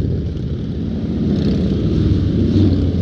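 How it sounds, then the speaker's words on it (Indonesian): Harley-Davidson motorcycles ride past in a convoy, a steady loud low rumble of big engines holding for a few seconds with no clear single pass-by. "Merinding aku nek kerungu konvoy Harley."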